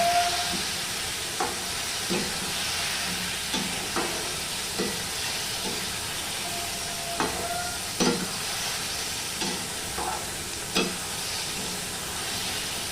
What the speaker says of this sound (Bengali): এবার এই মশলাটা দিয়ে সমানে কষাবো, আর কিচ্ছু দেবো না।